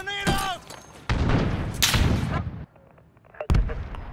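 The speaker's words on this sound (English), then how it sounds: "Grenade out!" A grenade blows up in Call of Duty: Modern Warfare amid gunfire, with loud booming blasts and sharp cracks over a few seconds, followed by a quieter gap and another hard bang.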